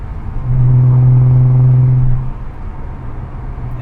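Loud car revving through a Z1 Touring cat-back exhaust: one sustained, droning rev held for about two seconds, then dropping back to a lower idle rumble, with no talk.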